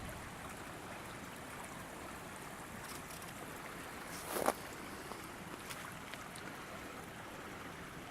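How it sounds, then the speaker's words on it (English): A little water runs down a river at the site of an old dam, a faint, steady wash and trickle heard from a distance, with one brief louder splash partway through. "There's a little bit of water running down it."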